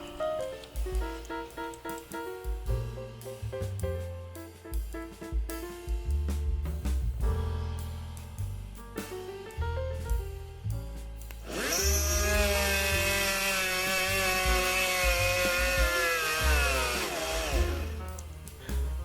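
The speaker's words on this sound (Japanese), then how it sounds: "ピンバイスで開けた穴にドリルを入れてからルーターの電源を入れます" A rotary tool whines and grinds as its drill bores into brass, its pitch shifting as it cuts, then rising to a sustained high-speed screech before stopping.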